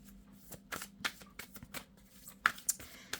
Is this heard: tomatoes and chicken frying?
no